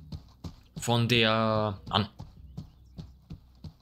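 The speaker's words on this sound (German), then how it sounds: "stampfst du herum. Was ist das für ein Pferd?" Heavy horse hooves stomping in the medieval combat game Mordhau, a few low thuds spaced across the clip beneath someone speaking German in the foreground.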